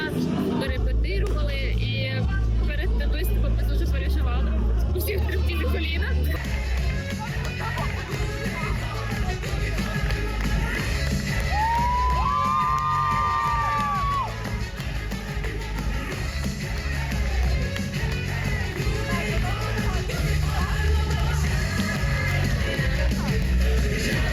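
A loud, steady crowd of spectators yells, whoops and cheers throughout a Moldovan-style folk dance number at a university beauty pageant, with a dense hubbub of voices and no break.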